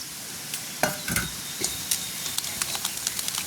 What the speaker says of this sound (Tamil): இப்படியே தேங்காய் பூவையும் மரவள்கிழங்கையும் நல்ல வடிவாக கோதுமை மாப்புட்டு மாதிரி தான் சேர்த்து விடுவோம்